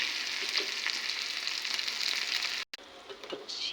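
Tempering spices sizzle steadily in hot oil for a tomato chutney, a dense even hiss that cuts out for a split second before continuing, with no voices.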